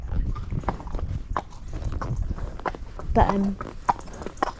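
Horse hooves clip-clopping at a walk on a ride out, a steady irregular rhythm of close thuds, with wind noise and a person talking over them.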